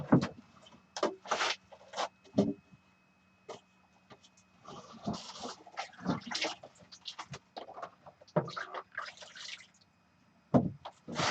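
Water splashes and pours into a gold sluice in a shed, coming in irregular bursts of sloshing and trickling with short quiet gaps between pours, close by.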